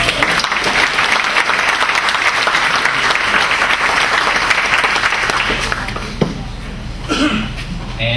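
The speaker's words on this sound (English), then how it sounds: "And if we could give everybody one last applause, that'd be great." Loud, dense applause from a large audience at an anniversary gala award ceremony, sustained for several seconds before thinning out with a few scattered claps near the end.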